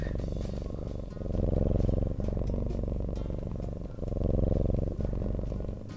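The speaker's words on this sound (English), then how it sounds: "complete with cat purring ASMR" A cat purrs steadily right against a close microphone, a deep, loud rumble that swells and eases in long cycles of a few seconds each.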